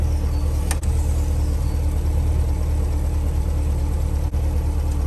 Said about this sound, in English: We've got the car idling in park.